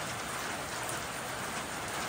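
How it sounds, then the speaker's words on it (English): Steady cold rain falls at an outdoor shooting range, an even, dense hiss of drops with no breaks. "especially like in this cold, rainy weather"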